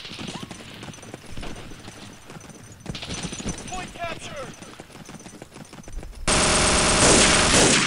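An MG42 machine gun firing in the Day of Defeat video game: a loud, sustained burst near the end follows a busy stretch of scattered shots and combat noise, with a voice talking throughout.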